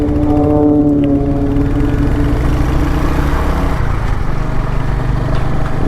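Royal Enfield Hunter 350 motorcycle on the move, its 350cc single-cylinder engine giving a loud, steady low throb close by with no talk over it.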